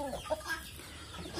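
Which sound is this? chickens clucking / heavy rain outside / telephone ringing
chickens clucking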